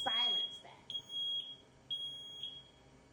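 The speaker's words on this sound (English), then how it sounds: "you push it down and it will test to make sure that the smoke alarm is working" Smoke alarm sounding during a push-and-hold test, a piercing high-pitched electronic tone chirping in repeated short bursts, faint and somewhat distant, with a person talking over the start.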